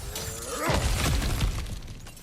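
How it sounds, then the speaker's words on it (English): Cracked ground gives way as a character smashes through an obstacle in God of War Ragnarok, with a loud, close crunching shatter near the start and debris rattling and settling for about a second and a half afterward. No one speaks. "back to smashing through things for fun and profit"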